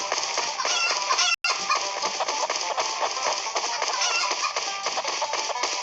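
Chicken clucking in the video game Stickman Party, steady and fairly loud over a dense busy background, with a brief cut of silence early on.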